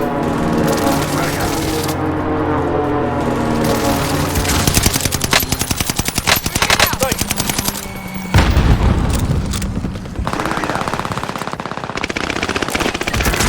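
Rapid automatic gunfire and heavy shots in the battle royale game Warzone with NZ41 and STG44 weapons, loud and continuous bursts with booming impacts, players talking over it.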